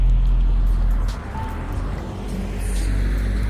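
A loud car rolls past, its deep low rumble heavy at first, then dipping briefly before swelling again, with a thumping low end throughout.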